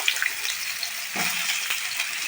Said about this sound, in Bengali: আমি সামান্য তেল দিয়েছি, শুধুমাত্র এই আলু আর ডাঁটাটা একটু ভাজার জন্য